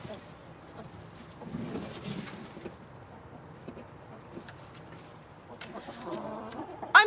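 Backyard chickens cluck softly in scattered bursts at close range over a quiet outdoor background, with a sharper squawk at the very end.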